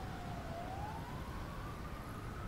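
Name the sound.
police sirens in the city, from video game Train Simulator Classic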